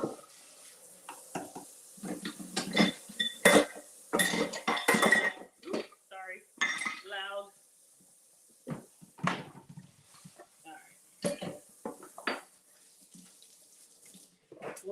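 Dishes clatter and clink in a kitchen sink as a bowl used for brownie batter is rinsed, sharp intermittent knocks of pots and utensils with bursts of running tap water, while a person briefly speaks.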